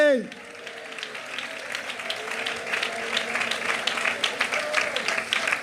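Church congregation clapping hands in praise, a steady dense patter of many palms filling the room after a preacher's voice, continuing throughout with talk over it.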